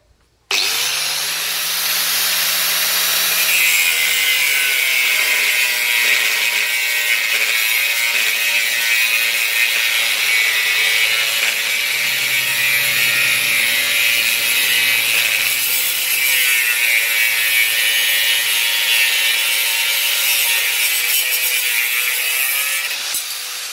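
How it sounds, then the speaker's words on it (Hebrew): An angle grinder with a thin cutting disc slices through iron bars held by hand, with no clamp: a loud, continuous high-pitched whine and grinding screech that holds steady for over twenty seconds, its pitch dipping slightly early on as the disc bites. "כשחותכים ברזלים כאלה, לא מסתובבים, לא נותנים סטייה עם הדיסק"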